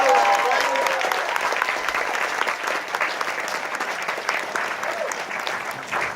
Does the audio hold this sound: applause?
yes